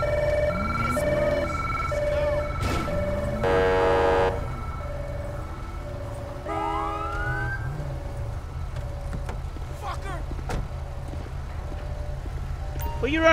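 A police siren in Grand Theft Auto 5 wails and yelps in rising and falling sweeps, interrupted by other game sounds over a steady background hum.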